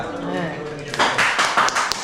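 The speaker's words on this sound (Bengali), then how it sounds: "সেকেন্ড অনুমিতা জোরে হাততালি" Children and adults clap for the winners of a sand model competition on Kalipur Beach, a short burst of scattered applause following a voice that speaks over the start.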